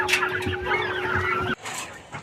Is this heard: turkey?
yes